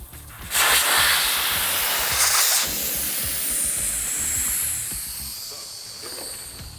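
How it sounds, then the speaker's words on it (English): Air rushes out of a bicycle tire's Schrader valve in a loud, close, broadband hiss that starts abruptly, peaks for about two seconds, then keeps venting more softly and gradually fades. "So I'm gonna let all the air out of this tire."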